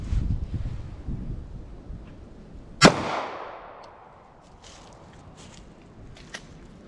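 A single sharp gunshot cracks out from a 9mm hollow point FTX round fired through a 4-inch barrel at a ballistic test outdoors, followed by a long fading echo over faint wind and rustling.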